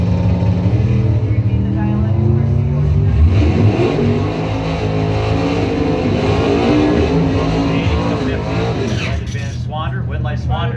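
A 1970 Challenger and a 1974 Vega drag race, their engines roaring and revving loudly throughout while an announcer talks over the noise.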